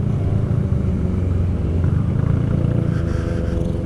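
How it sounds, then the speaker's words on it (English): A group of motorcycles fitted with aftermarket mufflers rumbles loudly and steadily up close in road traffic, a deep continuous drone with a faint rise in revs near the end. No voices. "a lot of these bikes have aftermarket mufflers on them and making some noise."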